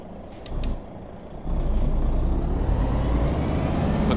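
A DAF truck in Euro Truck Simulator 2 drives along with a low engine drone, a brief hiss of air early on, then the engine rising louder and holding steady.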